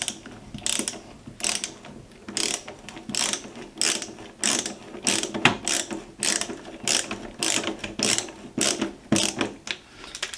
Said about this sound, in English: And then we'll screw in our second screw.